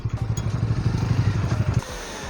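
A 2020 BS6 Bajaj Dominar 400 motorcycle slowing to a stop on the road, its close single-cylinder engine thumping steadily before the beat fades to a quieter idle.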